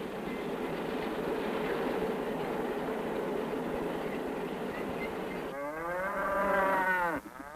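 Corn-fattened beef cattle on a Midwest farm give low mooing calls over steady barnyard noise, with one strong, drawn-out bellow rising near the end, close and loud, no speech.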